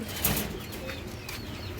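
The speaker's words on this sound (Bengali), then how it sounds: "এই যে পিছনেটা নর কবুতর, হ্যাঁ এই যে সাদাটা মাদি কবুতর।" At a pigeon farm keeping racers, high-flyers and fancy breeds, a sudden burst of wingbeats flutters close by near the start, followed by softer rustling and faint coos.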